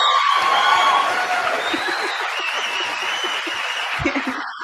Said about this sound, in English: you keep talking over the claps